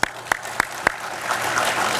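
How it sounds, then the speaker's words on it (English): Audience at a chamber of commerce economic summit applauds the sponsors, starting with a few sharp separate claps that swell into steady, dense clapping from a crowd in a hall. "I want to give a round of applause for the sponsors, please."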